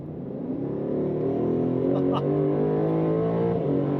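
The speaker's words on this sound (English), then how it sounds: "So let's move from GT into Sport Plus before I dab the throttle." A 2026 Aston Martin DB12 S in Sport Plus mode under hard acceleration, its engine note rising steadily and loudly as the revs climb over four seconds, with a faint brief click partway through.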